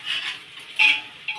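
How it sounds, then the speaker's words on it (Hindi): Onions frying in a pan give a brief hissing sizzle with quick scraping and clinking bursts from a utensil moving them, close and moderately loud. "ये हमारे प्याज भी भून रहे हैं, ये देखो।"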